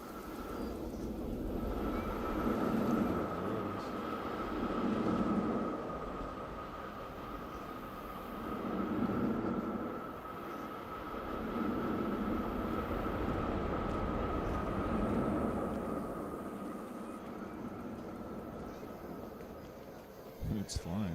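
Roller coaster named Ninja in Planet Coaster 2 passing overhead: a steady rumbling roar of train and track that swells and fades in waves, with a sustained whine through most of the pass, loud and continuous, with a voice speaking over it.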